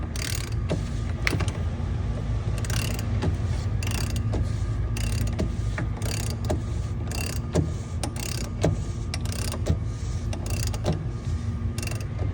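Ratchet wrench snugging down the fuel filter cap on a 2023+ Mercedes Sprinter with the OM654 diesel engine, a run of steady rapid clicks close up over a continuous background hum.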